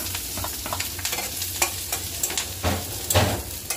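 Turmeric, garlic, green chilies and onion frying together in a pan for red spinach, with a loud, close, continuous sizzle and repeated scraping stirs throughout.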